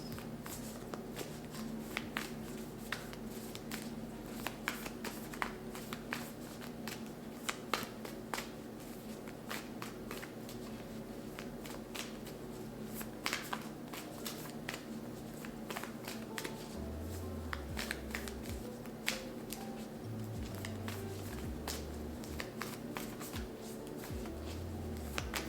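Oracle cards being shuffled in a deck, a steady stream of soft, rapid papery riffles and slaps running throughout, fairly quiet and close with no talking.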